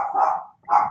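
A dog barks twice, close and loud, with a short pause between the two sharp barks.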